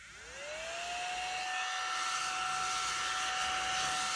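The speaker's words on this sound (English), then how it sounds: "I got this little mini vacuum from Temu, of course. And let's see how it works." A small battery-powered mini vacuum from Temu starts up with a rising whine, then settles into a steady, fairly loud high-pitched motor whir and airy hiss that runs to the end.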